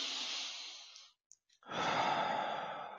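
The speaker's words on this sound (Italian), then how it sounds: "Adesso fai un respiro profondo." A person draws a deep, slow breath during a guided relaxation session, a long airy exhale followed by a brief pause and then a loud, full inhale, heard close and alone without talk.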